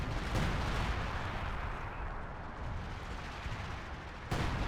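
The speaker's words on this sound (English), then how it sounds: "that artillery needs to get a direct hit on it." Dense, continuous artillery fire and rumbling explosions in the Company of Heroes 2 video game, loud and sustained with a fresh blast near the end.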